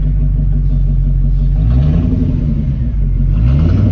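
A C4 Corvette engine runs loud and close, and it rises in pitch twice as the throttle is opened with a deep, rumbling rev between steadier idling.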